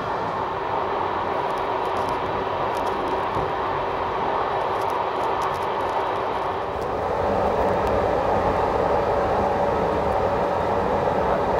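Steady rumble and rattle of a train running over old track between Oradea and Püspökladány, heard from inside the carriage, continuous and fairly loud with no talk.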